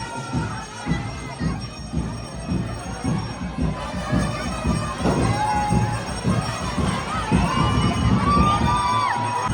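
A festival immersion procession crowd cheering and shouting, with children's yells and whoops layered into a dense, loud, continuous roar close around the listener.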